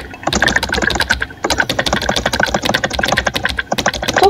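Rapid, steady keyboard typing up close in the video game Emily is Away, bursts of clicking keys with a short pause partway through.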